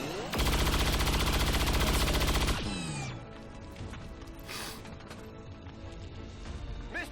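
Automatic gunfire in the strategy game XCOM 2, a loud sustained burst of rapid shots lasting about two seconds, then cutting off into quieter mechanical clatter and ambient game sounds.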